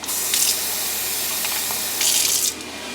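Water streams steadily from a tap into a cooking pot for about three seconds, a continuous hissing gush that swells briefly in the middle and near the end, with no talking.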